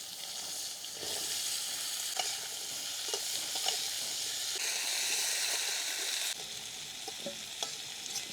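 Potatoes dropped into hot oil in a pan just used for frying tilapia fish, a bright continuous sizzle and hiss with occasional stirring clicks and scrapes, close and steady, no talking.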